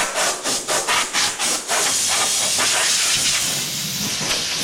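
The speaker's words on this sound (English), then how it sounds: "I'm going to use the compressed air for a quick" Compressed air blasting dust out of a wood shop belt and disc sander: several short hissing bursts, then one long continuous loud rush of air, close up with no voices.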